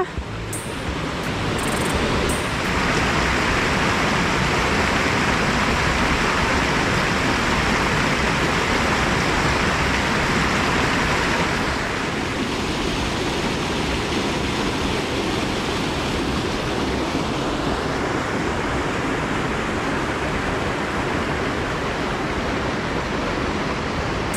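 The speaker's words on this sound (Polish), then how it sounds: "I ten szum wody" Loud, steady rushing water fills the whole stretch on an uphill trail in Iceland, a constant broadband roar like a nearby stream or waterfall, with no voices.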